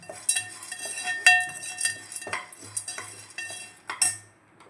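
Popcorn being stirred with ghee in a cooking pot, a utensil scraping and clinking against the metal in an irregular rhythm of close, fairly loud strokes with no voices.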